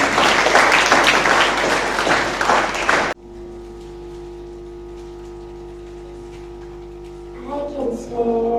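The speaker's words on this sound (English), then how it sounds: "Let us have a big round of applause for Anushka Kripti" At a school Children's Day celebration, an audience applauds loudly for a student singer for about three seconds, then the clapping cuts off abruptly into a quiet hum before a voice begins near the end.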